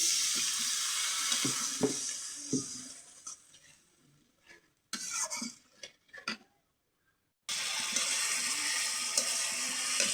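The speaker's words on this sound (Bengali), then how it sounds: "এখন মশলাটা কষানোর জন্য একটু দিয়ে দেবো পানি" Water is poured into a spice mix of chili powder, turmeric and salt frying in a pan, bringing a hissing rush and sputter with a few utensil clicks and a brief drop to near silence midway.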